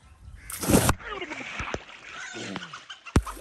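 A person jumping into a water-filled well: one heavy splash lands early, followed by water sloshing and short bursts of voices, then a second sharp impact near the end.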